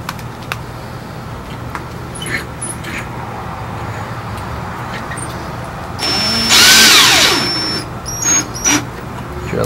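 A power drill driving a screw whirs in a short burst, rising then winding down, amid quieter workshop background noise and a few light clicks.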